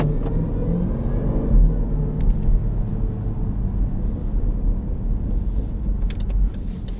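A 2018 Jeep Grand Cherokee Trackhawk, a 700-horsepower SUV, drives with a deep, continuous exhaust rumble and some light burbling, steady and close throughout the seven seconds with no one speaking.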